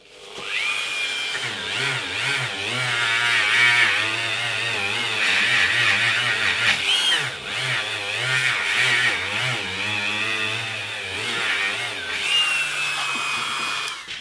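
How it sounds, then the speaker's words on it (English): A Dremel rotary tool whines up close while polishing a guitar fret during a home electric guitar build. A high, steady spin wavers in pitch as pressure on the metal changes, running continuously for over ten seconds. "finally a polish with a Dremel."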